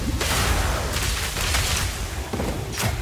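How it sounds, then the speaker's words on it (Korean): Explosive, oil and gas grenades bursting in Path of Exile 2, a rapid volley of loud, dense booms and whooshing blasts that overlap, with sharp fresh hits near the start, middle and end. "몹이 나오면은 석궁 깔고 폭발, 기름, 가스 자꾸 던져주면 됩니다"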